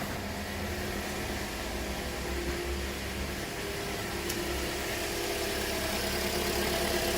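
A 2007 Toyota Corolla engine idles steadily after a repair, a low, even hum that holds constant throughout with no voices.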